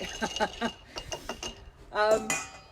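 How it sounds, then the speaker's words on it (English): An Old Fashioned cocktail made with Maker's Mark bourbon is stirred in a glass, producing a series of close, rhythmic clinks and rattles of a metal spoon against glass and ice. "just giving it a little stir there, it's a bit noisy"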